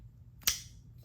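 A single sharp metallic snick as a folding knife's lock snaps shut, close and crisp, with a brief bright ring that fades quickly in an otherwise quiet space.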